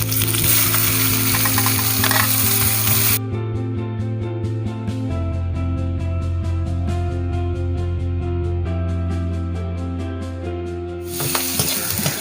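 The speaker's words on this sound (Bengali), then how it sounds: "পেঁয়াজটা ভাজা ভাজা হয়ে গেছে" Chopped onion fries in a pan with five-spice tempering, a continuous loud sizzle with scraping stir strokes, accompanied by background music throughout.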